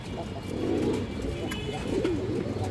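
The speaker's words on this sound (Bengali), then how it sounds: "এই দেখেন কবুতরগুলো দেখেন মাশাআল্লাহ" Pigeons at a fancy-breed loft coo in soft, rounded bursts close by, a steady low warble rising and falling over a few seconds with no talking.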